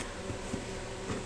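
A fan runs loudly in a room during the unboxing of a PNY RTX 2060 graphics card, giving a steady close whirring drone with a faint hum.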